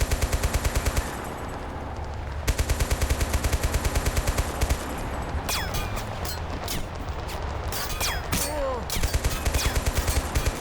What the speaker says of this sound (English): Should be able to fire on this group of garrison units.